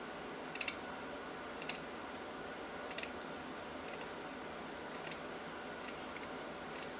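Scissors snipping through a glass place mat from the dollar store, several short crisp clicks spaced a second or so apart over a steady background hiss, close and fairly quiet.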